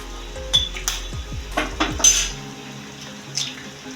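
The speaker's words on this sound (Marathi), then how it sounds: "सगळे अंडे व्यवस्थित याच्यात आपण फोडून घेऊया" Ten eggs cracked into a pan for anda bhurji, with sharp clinks of shell and utensil against metal, a few quick knocks in a row, then soft sizzling and stirring close by.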